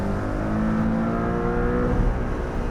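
A 2019 Porsche 718 Cayman T turbocharged engine pulling hard toward 7,000 RPM, a steady loud droning rev with rising harmonic tones, heard from inside the car without talk.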